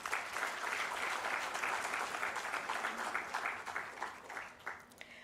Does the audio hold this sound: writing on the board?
no